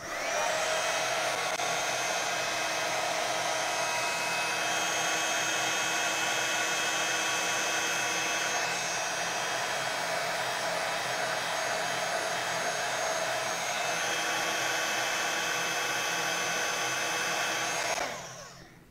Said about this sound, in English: I'm going to heat emboss that as well